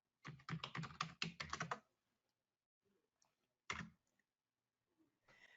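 Rapid burst of computer keyboard typing while logging in to a software configuration menu, a dense run of clicks followed by a short second flurry, then quiet with faint movement.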